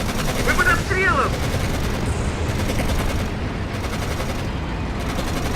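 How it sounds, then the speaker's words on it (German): Dense, continuous gunfire and rattling machine-gun bursts from the Codename: Panzer Phase One war game fill the whole stretch at steady loudness, with a brief voice cry near the start. "Ja, wir schießen da schon wieder!"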